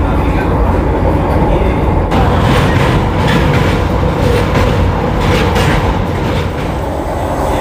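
A 20-coach Vande Bharat Express running on rails between Puri and Howrah gives a loud, steady rumble and rush of wheel noise that never lets up, with faint rhythmic clatter underneath.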